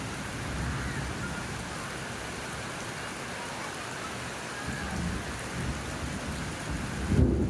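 Heavy rain pours down steadily in a loud, dense hiss during a thunderstorm in a flooded street where children bathe, with a low thunder rumble building near the end.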